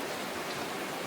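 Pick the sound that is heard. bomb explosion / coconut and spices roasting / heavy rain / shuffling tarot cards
heavy rain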